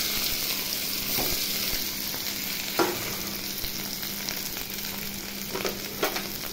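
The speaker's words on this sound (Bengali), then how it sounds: "এবার আমি ম্যাশ করা আলু" Mashed potato for aloo paratha filling fries in a kadai with cumin and green chillies, giving a continuous sizzle broken by a few soft scrapes and taps of a spatula, and no voices.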